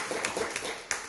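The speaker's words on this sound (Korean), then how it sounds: "우리 다시 한번 박수 한번" Scattered claps from a church congregation during a Sunday worship service, a brief, moderately loud patter of several hands with a few sharper individual claps standing out.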